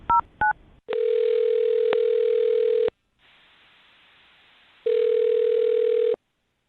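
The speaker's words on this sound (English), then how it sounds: "I'll dial her phone number right now" Two short touch-tone dial beeps, then a steady telephone ringback tone pulses twice with a quiet gap between, loud and clear with no talk.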